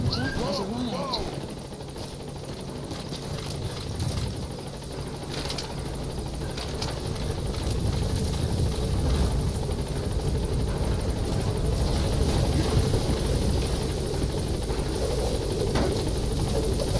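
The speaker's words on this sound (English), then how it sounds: "Support helicopter has arrived." A support helicopter arrives in the video game Metal Gear Solid V, its rotor thumping steadily and close at a loud level and building slightly, with radio-style voices speaking over it.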